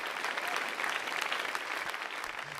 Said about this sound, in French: Maintenant, applaudissez.